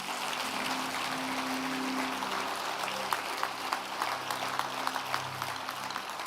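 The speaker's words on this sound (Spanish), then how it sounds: "Dale un aplauso al Rey bendito." A church congregation applauds steadily, a dense continuous patter of many hands with a low sustained hum underneath, holding at an even level throughout.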